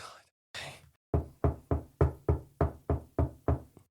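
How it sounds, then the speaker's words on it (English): Knocking on a door, about ten sharp, evenly spaced raps in a steady rhythm, loud and close, following two brief louder thumps. "It's a lot of knocks."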